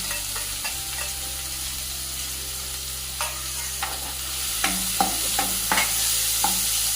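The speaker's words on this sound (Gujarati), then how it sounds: "લસણ આદુ મરચાંની કચાશ થોડી દૂર થાય એટલે ચોપ કરેલી 2 ડુંગળી ઉમેરવાની" Chopped onions go into a pan of frying garlic, ginger and chili: steady hot oil sizzle with a low burner hum, broken by repeated scraping stir strokes of a spoon that grow busier toward the end.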